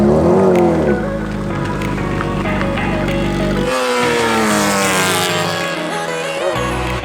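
A garage-built F1 car runs a lap, its engine rising and falling through the gears in a loud, raspy howl that sweeps past close by, then pulls away with a shifting tone.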